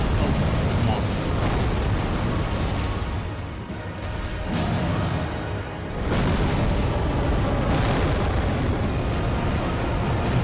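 Explosions in the video game Elden Ring, as rocks blow apart in a run of loud, dense booms and rumbling bursts that ease off briefly mid-way and then build again.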